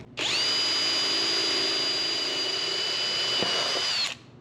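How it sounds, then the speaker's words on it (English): A power drill whirs loudly at a steady high pitch for about four seconds while drilling a hole in a clamped part, then winds down and stops. "It's always good to make sure your part is secure before drilling."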